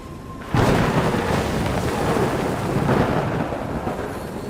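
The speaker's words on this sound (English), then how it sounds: "When the storm surges from the deep sea" A storm in the game Love & DeepSpace: a sudden loud crack of thunder breaks in and rolls on as a long, steady roar with a swell midway, heard without any talk.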